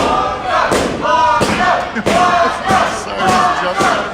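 A loud wrestling crowd at an ACW Proving Ground event cheers and chants steadily for Blanco Loco, with rhythmic thumps and surges of noise throughout.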